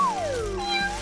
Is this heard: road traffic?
no